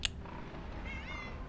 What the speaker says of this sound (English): My cat wants in the room, and the door was shut.